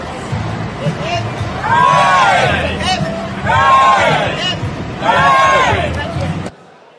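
A crowd at a 3D FilaPrint tenth-anniversary presentation gives three loud, surging cheers with whoops and shouts, each rising and fading before the noise cuts off abruptly near the end.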